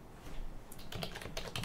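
Keystrokes on a computer keyboard while entering a web address in ArcoLinux, a quiet start giving way to quick irregular bursts of close clicks from about midway, with no talking.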